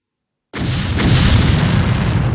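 A grenade explodes in the turn-based game X-Com Apocalypse, a single heavy boom bursting out of silence and rolling on as a loud, sustained low rumble.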